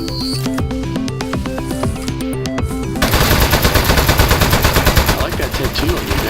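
Shooting in the video game Aperture Desk Job: a plucky musical passage gives way to a loud, rapid burst of continuous machine-gun-style fire that lasts several seconds.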